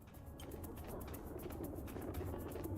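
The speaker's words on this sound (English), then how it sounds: "these pigeons are sure patient with me" Pigeons coo softly in the Carmen Sandiego video game, a few low, muffled coos repeating over a quiet game background with no talking.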